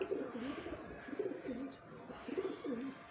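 Pigeons coo softly and repeatedly in a small backyard pigeon setup, the low rolling calls recurring in steady waves over faint background noise.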